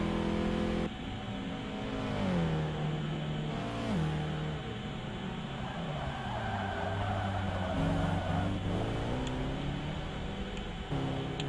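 A race car in a sim endurance race at Sebring accelerates hard out of a hairpin, its engine note climbing and dropping through gear changes, loud and continuous for the whole stretch.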